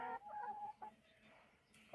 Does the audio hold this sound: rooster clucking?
yes